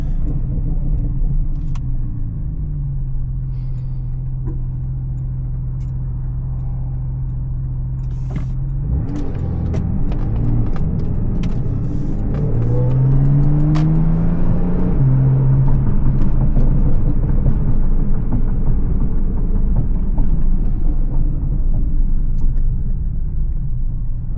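A 2018 Porsche 911 GTS Cabriolet with a PDK gearbox drives along, its engine a steady low rumble from inside the cabin that rises as it accelerates, with pitch sweeps marking gear changes under road noise.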